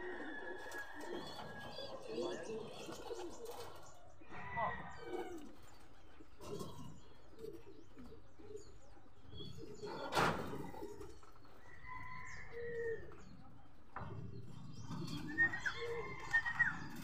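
Racing pigeons coo softly in a loft, with scattered low calls and occasional chirps and wing flutters, fairly faint, while people talk in the background.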